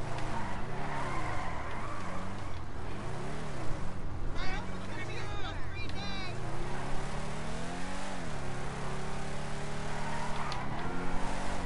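A car drifting in GTA 5, its engine revving up and down in long sweeping waves with tire squeal and skidding, steady and fairly loud throughout, with a voice now and then.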